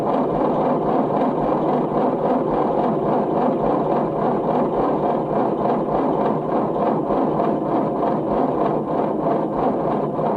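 An engine cranks over continuously while fuel works its way to the carburetor, a steady rhythmic churning at moderate loudness with no voices.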